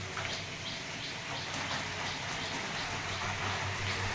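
Light rain falls in a village setting, a soft, continuous hiss and patter with faint bird calls mixed in and no one talking.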